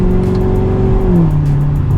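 A car with an automatic gearbox accelerates in fourth gear, its engine a loud, steady, close drone that drops in pitch partway through as a slow upshift finally takes hold.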